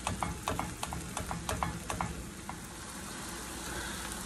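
Ground turkey or ground beef browning in a pan, heard as a steady close sizzle with a run of quick scraping stir strokes over the first two seconds, then an even frying hiss alone.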